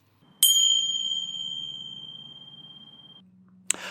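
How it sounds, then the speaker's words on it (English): A single bell strike rings out clearly, a bright metallic ding that sustains and slowly fades over about three seconds, followed by a faint click at the end. "That bell was just to alert you that we're going to take a quick break"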